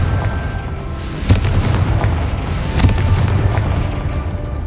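Confringo explosion spell cast in the video game Hogwarts Legacy, heard as a couple of deep booming blasts over a rumbling low background, with the second blast about one and a half seconds after the first.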